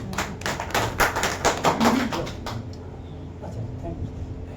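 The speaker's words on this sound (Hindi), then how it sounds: "ताली बजाओ।" An audience at a public gathering breaks into a short burst of clapping that fades after about two seconds, leaving a murmuring room.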